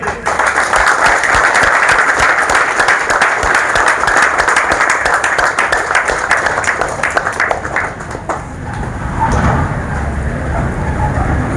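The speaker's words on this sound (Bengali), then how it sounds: "আরো একবার হাততালি দিব খুব জোরে।" Sustained applause from an audience, dense clapping that rises loud, then thins and fades slightly toward the end.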